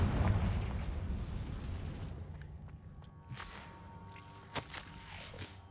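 In the video game Hogwarts Legacy, a Confringo explosion spell bursts with a loud low boom that rolls and fades, followed by a few faint pops and thuds.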